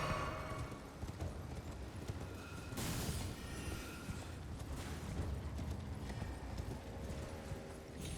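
A horse gallops in the video game Elden Ring, its hooves clip-clopping in a steady quick rhythm under game ambience. A brief burst of louder noise breaks in near the middle, and there is no talking.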